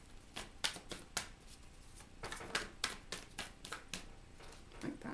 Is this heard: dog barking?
no